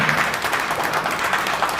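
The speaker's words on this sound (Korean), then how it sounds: "한번 박수로 격려하고 환영해 주시기를 바랍니다" An audience at a press conference in a church assembly hall applauds to welcome the presenting professors, a steady wash of many hands clapping at moderate distance, continuous and even throughout.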